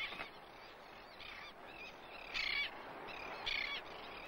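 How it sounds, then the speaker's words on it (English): Royal terns calling during a courtship dance on a desert-edge beach: harsh, high squawking calls in short repeated bursts, two louder near ones standing out over a soft background hiss. "A pair of royal terns perform their courtship dance on the beach."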